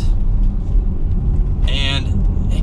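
A 2020 Porsche Cayenne Coupe in Sport Plus mode powers out of a turn, its engine a steady loud rumble throughout, with a brief burst of higher-pitched engine or tire noise near the end.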